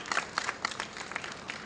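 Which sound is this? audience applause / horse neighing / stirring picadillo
audience applause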